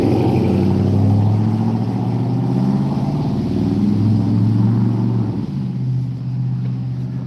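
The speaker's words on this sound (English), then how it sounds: "know y'all hear that loud truck" A loud truck rumbles past close by with a heavy low engine drone, strong and continuous, easing slightly and shifting pitch toward the end.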